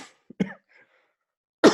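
A person coughs close by: a small throat clear, then a short cough, a quiet pause, and a louder cough burst at the end, with no speech.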